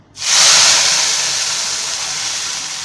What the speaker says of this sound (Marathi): आता त्यामध्ये मी फोडणी देते